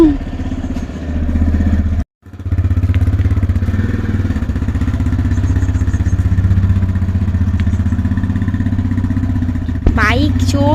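A nearby motorcycle engine runs with a steady, throbbing drone. It cuts out briefly after about two seconds, then resumes, and a higher whine rises near the end.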